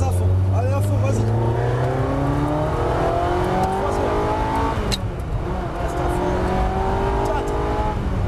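A car engine revs hard through the gears on a race circuit, its pitch climbing repeatedly as it accelerates at full throttle, loud and close.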